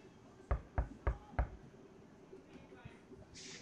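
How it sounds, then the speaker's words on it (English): Four evenly spaced knocks on a door in the video game Life is Strange, crisp and close, followed by a quiet room tone with faint background sounds. "Knock."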